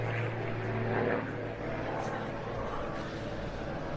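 Propeller aerobatic display plane at an air show, a steady droning engine hum drifting overhead at moderate distance through the whole stretch, with a slight swell early on.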